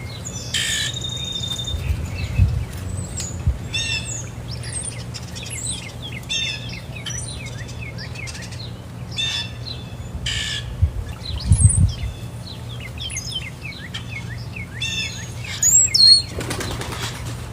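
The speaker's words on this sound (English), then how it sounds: "That sounded like pigeons." Wings flap in bursts of beating near a feeding spot behind a fence, while several pigeons and other birds chirp and squawk at varying distances and occasional louder rustles rise above a quiet outdoor background.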